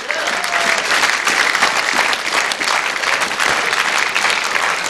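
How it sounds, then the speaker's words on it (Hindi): A large live-event audience claps loudly and continuously, dense and even from start to finish with no speech over it. "कार चाहिए ना तो तालियां देनी पड़ेगी"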